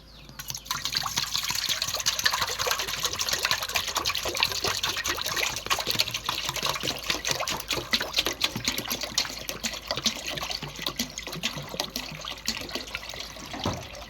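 Water poured into a large pot of bones being boiled for a long-simmered dish, a continuous splashing, trickling rush close up without talk.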